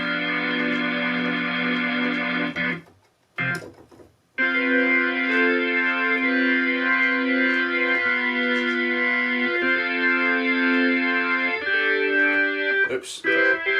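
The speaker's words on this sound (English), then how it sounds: "I was looking for a sound and I found an organ sound I liked." A sustained synth organ patch from a Halion Sonic instrument holds steady chords, with a short gap and a chord change near the start, then rings on smoothly and fairly loud, no voices.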